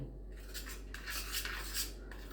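Garlic butter being stirred with a spoon in a bowl, soft close scraping and clinking strokes in an irregular rhythm over a low steady hum.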